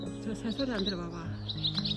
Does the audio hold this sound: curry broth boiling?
no